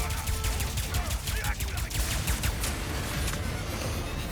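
Rapid gunfire bursts aimed at a spaceship in the video game Ratchet and Clank Rift Apart, a busy stream of shots and explosions with game noise underneath.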